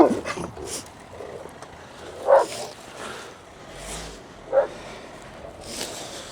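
Dogs barking in short bursts at a distance outdoors, a few sharp yelps spaced apart over a quiet background.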